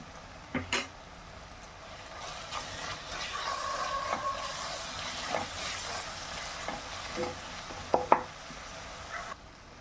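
Ginger garlic paste sizzles and fries in a pan for a mung bean gravy, stirred with steady scraping and a few sharp utensil clicks near the start and end, with no talking.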